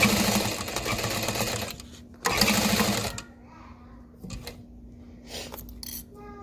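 A sewing machine stitches a backpack seam at a number 3 stitch length with a half-inch allowance, in two loud sustained runs followed by quieter short bursts and pauses.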